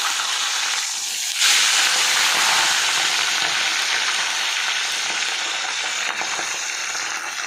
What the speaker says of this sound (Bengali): প্রচণ্ড পরিমাণে তেল ছেটকাচ্ছে মাছটাকে সবে উল্টে উল্টে উল্টে ভাজি